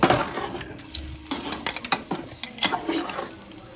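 Crushed shallots and green chillies fry in hot oil in a pan, giving a soft sizzle broken by quick metallic clinks and scrapes of a stirring utensil.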